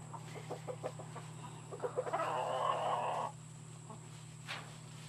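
Backyard chickens cluck in short soft bursts, rising into a brief louder run of squawking calls before settling, over a steady low electrical hum.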